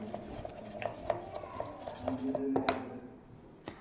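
A homemade multani mitti soap mixture is stirred in a bowl, with light scraping and scattered clinks of a utensil against the container, close and fairly quiet.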